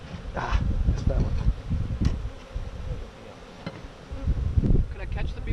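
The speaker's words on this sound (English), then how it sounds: "make sure you don't have a lot of mean bees flying around you" Honey bees buzz around a beekeeper working at a hive, a close, wavering hum rising and fading as insects fly past, with people talking over it.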